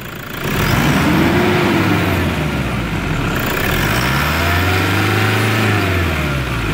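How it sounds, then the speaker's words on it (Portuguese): A Toyota Hilux with a turbo engine revs up loud and close, climbing in pitch, easing off, then surging again in two long sweeps over a steady rumble. "Agora vamos ver como ficou o barulho dessa turbina."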